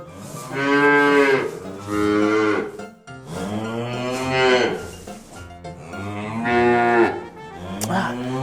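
Cows on a farm moo loudly and repeatedly in long, drawn-out calls, about four or five in a row with brief pauses, close and clear, with no talking.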